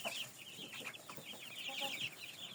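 Hens, a flock of white chickens among them, cluck in quick, overlapping bursts throughout, a steady busy chatter at moderate distance with no talking.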